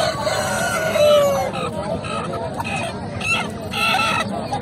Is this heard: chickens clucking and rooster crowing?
yes